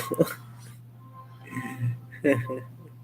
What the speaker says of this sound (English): The neighbors, Zanzog won't stop barking.